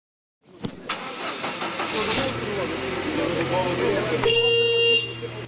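A new ambulance's engine starts on the first try: a short cranking burst, then the motor catches and settles into a steady, close idle, with a brief high electronic tone near the end.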